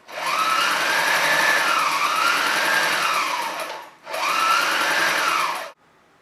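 Mini walking foot sewing machine running steadily through thin fabric at a longer stitch length, a loud continuous whirring motor hum in two bursts with a short pause between, stopping near the end.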